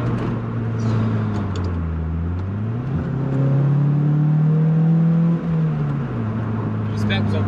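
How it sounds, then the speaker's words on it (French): Car engine and exhaust on winding mountain roads, rising and falling through gear changes with revving sweeps, the exhaust note close and steady throughout; a few faint crackles near the end. "J'espère que vous entendez bien l'échappement derrière, petit pétarade parfois."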